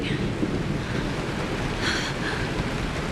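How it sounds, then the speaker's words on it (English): Steady rain falls in the game Honkai: Star Rail, a dense continuous wash of noise like wind and surf that holds an even level throughout, with faint tonal traces over it. "It is raining."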